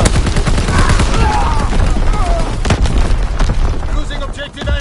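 Heavy naval guns of a warship's primary battery fire in a WWII naval battle game, loud booming blasts over dense rumbling battle noise, with a voice speaking over the gunfire.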